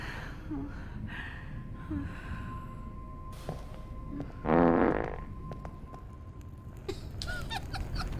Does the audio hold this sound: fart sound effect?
yes